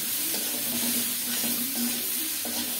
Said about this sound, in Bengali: এবার আর ঢাকা দেব না, এভাবে নেড়ে নেড়ে